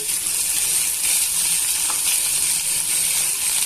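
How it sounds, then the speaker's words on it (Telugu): Okra fries in a seasoned iron pan over a medium flame, a constant even hiss of sizzling oil that holds steady throughout with no voices. "సీజనింగ్ చేసిన తర్వాత బెండకాయ కాలింపు చేస్తున్నాను"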